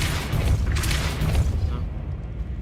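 A booming magical blast from the Confringo spell in the Hogwarts Legacy video game, a loud rumbling explosion with crackling debris that swells and then fades over a couple of seconds.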